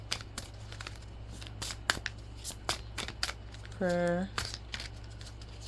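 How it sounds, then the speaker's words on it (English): Tarot cards being shuffled, a run of sharp riffling bursts in irregular rhythm, close and crisp, with a brief voice partway through. "I got some cards that flipped over while I was shuffling"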